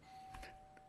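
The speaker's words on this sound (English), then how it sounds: "someone found the doorbell" A doorbell chimes during a gathering in a Unitarian Universalist church service: two soft tones close together, then a fainter third note, heard at a distance over low room noise.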